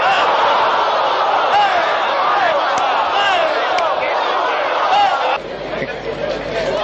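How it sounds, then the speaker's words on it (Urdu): Crowd at a Shia majlis chanting slogans in praise of Maola Ali: loud, sustained massed voices roaring together that dip slightly near the end. "آپ نے پتہ نہیں کس بات کے وجد میں نعرے لگائے"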